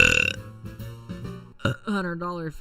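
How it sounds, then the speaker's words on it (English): Someone lets out a big, loud burp right up close, a rough voiced belch with a few stuttering pulses that ends in a rising, drawn-out tone. "big burp."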